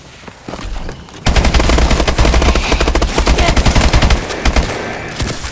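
Rapid automatic gunfire in Call of Duty, a loud sustained stream of rattling shots lasting several seconds after a quieter start, then tapering to scattered bursts.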